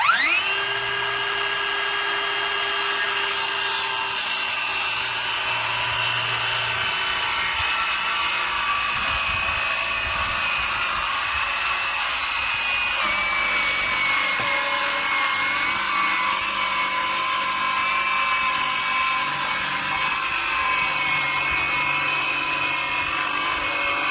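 A circular saw runs along a fence guide, cutting a plywood floor sheet for a tiny house loft, with a loud steady high-pitched whine held for over twenty seconds, close and continuous with no talk.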